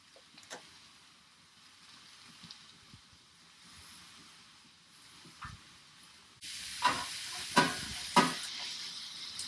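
Spinach hits a hot flat top griddle beside beef and vegetables, and a loud sizzling hiss jumps up partway through over quieter frying, with scraping stirs on top.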